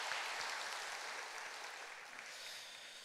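A church congregation claps steadily for a few seconds during a service, a dense patter of hands that fades gradually toward the end.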